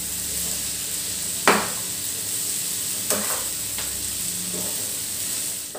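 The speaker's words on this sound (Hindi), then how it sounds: "अब इसके अंदर हम ये जो हमने रोटी को कट करके रखा हुआ था वो डालेंगे। और इसको मिक्स कर देंगे।" Cut chapati pieces tossed into vegetables frying in a hot pan, a constant loud sizzle broken by a few scraping stirs of a spoon against the pan.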